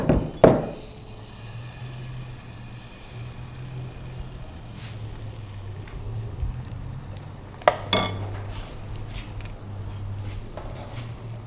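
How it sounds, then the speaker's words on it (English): A soft, steady sizzle of a ladleful of pancake batter frying in a pan, with a few sharp metallic clinks of a utensil against cookware. "using a ladle, just scoop up a little bit like this, 1 scoop, and straight onto the frying pan"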